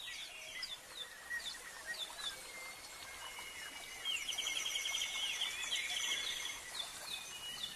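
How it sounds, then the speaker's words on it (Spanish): Many birds chirp and trill in a palace grotto. Their high, repeated calls overlap against a soft background hiss and grow busier partway through. "arropado por el sonido del canto de los pájaros"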